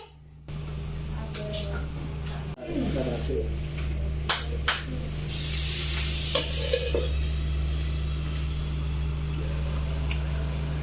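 Biryani fries in a pressure cooker with a steady sizzle as a utensil stirs and scrapes the pot, over a constant low hum, with voices talking nearby.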